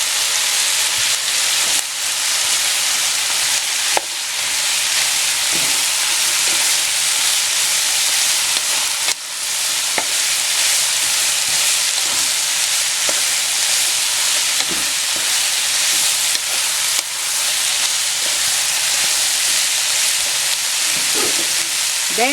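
Cabbage stir-frying in a pan for pancit bihon, a loud continuous sizzle and hiss close up with occasional stirring clinks and no talking.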